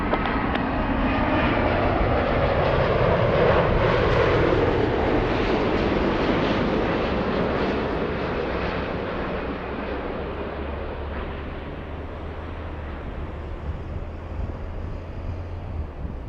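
A jet airliner landing at LAX in Los Angeles, a loud, steady engine roar close by that slowly fades, with a low rumble and wind buffeting on the microphone.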